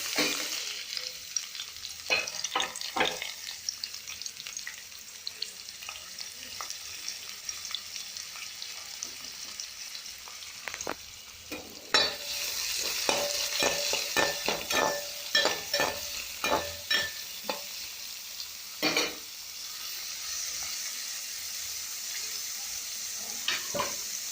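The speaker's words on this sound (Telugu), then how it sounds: "నెక్స్ట్ మనం ఆనియన్ పీసెస్ పచ్చిమిర్చి," Onion pieces and green chillies fry in hot oil with cumin and mustard seeds, a steady close sizzle broken by frequent scraping stirs of a spoon against the pan.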